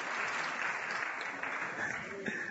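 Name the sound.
church congregation applause for God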